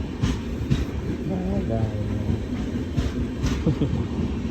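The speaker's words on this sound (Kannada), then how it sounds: "ಗಾಯ್ಸ್ ಟ್ರೈನ್ ಬರಕುಂತದ ನೋಡ್ರಿ" A train pulls into Yadgiri railway station, a steady low rumble and rattle of wagons filling the platform with a few sharp tonal squeals, while a crowd of waiting passengers murmurs in the background.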